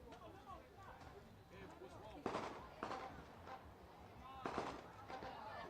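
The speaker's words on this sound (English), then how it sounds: "got some fireworks going on as teams like to make their grand entry in the parking lot." Fireworks pop in a few sharp bursts around a parking lot as youth basketball teams make a grand entry, the loud cracks rising over a steady crowd murmur with people talking throughout.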